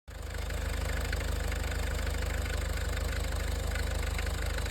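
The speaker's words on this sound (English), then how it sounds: "I think it's time to start the engine and give it a test." A Land Rover engine with a newly refitted pump starts up and settles into a steady, loud, close idle with an even low throbbing rhythm.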